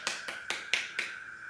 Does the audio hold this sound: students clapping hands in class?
yes